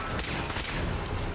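Rapid burst of gunfire in Fallout 4, several sharp close shots fired in quick succession at the player, loud and alone.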